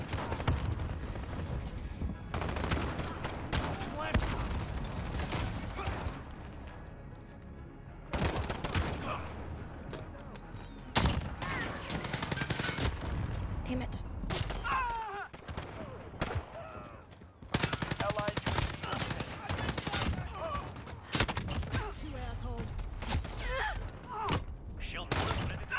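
Light machine guns fire in a video game battle, with dense rattling bursts and overlapping volleys that rise and fall, loud and close, mixed with game sounds and some voices.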